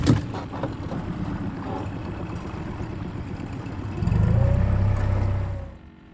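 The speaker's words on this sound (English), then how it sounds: "we will put the boat back in gear" A fishing boat's outboard motor runs steadily in gear on open water during speckled trout fishing, a constant hum with wind noise that swells louder near the end before fading.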